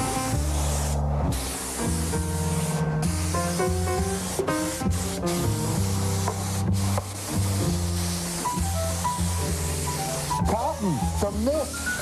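Orange shellac is sprayed as a mist onto golden oak in a continuous hissing spray. Background music plays throughout, and the spray is heard under the music without any speech.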